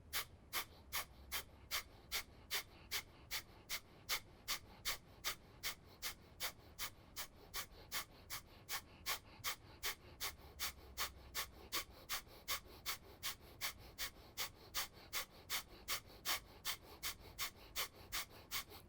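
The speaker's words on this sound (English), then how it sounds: "Take a deep breath in through the nose. Let it all out through the nose." Rhythmic deep breathing in and out through the nose during a core-strength yoga session, many steady, evenly spaced breath cycles, close and fairly quiet, no talking.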